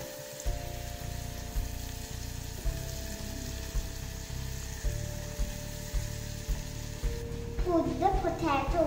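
Food sizzles and frying crackles in a pan as it is stirred, with a steady low rumble and a burst of brighter spattering near the end, close and moderately loud.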